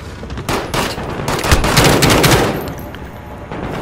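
Bursts of automatic Kilo rifle fire from Call of Duty: Modern Warfare, loud and close, with repeated rapid volleys peaking midway and then tapering off.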